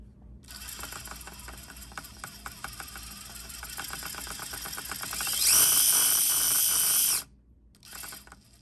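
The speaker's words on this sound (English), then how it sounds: "let's just take a look at that little motor spin" Small MoFo Nano motor on an SCX24 RC crawler whirs with rapid ticking gear clatter, then revs up into a louder, higher whine for about two seconds before cutting off abruptly, followed by a brief quieter spin.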